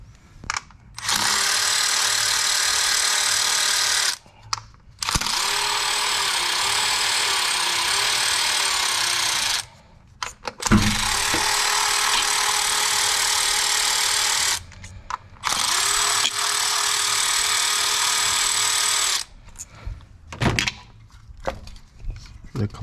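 A powered ratchet loosens the spark plugs on a 2014 Mazda 3, whirring loudly in four sustained bursts separated by short pauses.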